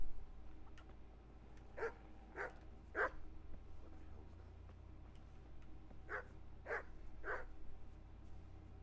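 Dogs in the Kingdom Come: Deliverance video game give a series of soft barks, a cluster of three and then another three after a pause, somewhat distant over a steady low hum.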